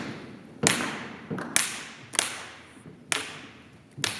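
Rhythmic hand clapping at a community singing session: five sharp, separate claps with clear gaps of silence between them, fairly close and alone without voices.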